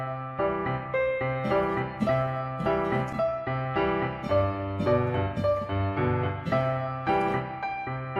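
Piano left-hand pattern of low and high notes moving under chords, played steadily in a bouncy repeating groove at moderate volume, alone without talking.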